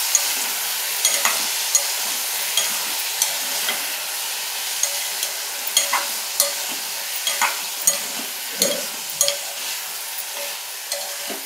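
Potatoes frying with ginger paste hiss steadily in a pan while a spoon stirs them, with frequent small scrape and clink ticks over the continuous sizzle, close and even.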